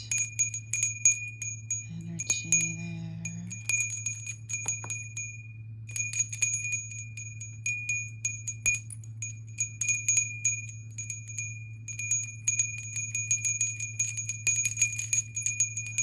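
A small hand bell rings repeatedly with thin, high tinkling tones to clear the space, ringing on and off over a low steady hum, with a few spoken words.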